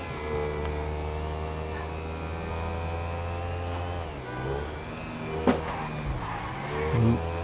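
A car in the GTA Online video game drives past and nearly hits a player riding a bike; a steady engine drone runs throughout, with a sharp burst near the end and a rougher swell as it passes close.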